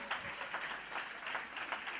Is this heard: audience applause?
yes